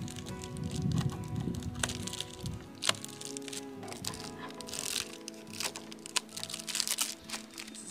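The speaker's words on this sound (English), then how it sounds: "So just cutting little bits to make the Reflectix exactly lie flat against the window." Scissors cutting through crinkly Reflectix foil-bubble insulation while trimming car window covers, giving close, irregular crackles, snips and crumpling bursts with no talk.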